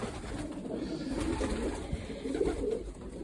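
Pigeons cooing in a pigeon loft housing large, healthy birds, a steady low murmur of overlapping coos close by, filling the whole stretch with no talk.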